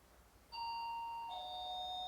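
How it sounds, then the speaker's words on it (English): A newly installed home doorbell sounds a clear two-tone chime: one bright tone, then a second slightly lower one, both ringing on steadily over faint room hiss. "My kids like to ring the doorbell."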